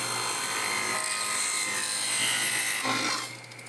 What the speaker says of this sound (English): I'm going to cut this corner off right here